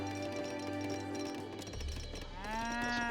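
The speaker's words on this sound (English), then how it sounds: "Some cows that are fattened." Cows moo in the Age of Empires III strategy game, a British treaty match, with a sustained lowing call followed by a second rising moo, loud and close over continuous game background sound.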